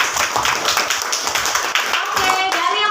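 Classroom clapping as students applaud a group during a lesson on social norms, a steady run of brisk, close hand claps over about three seconds with children's voices mixed in.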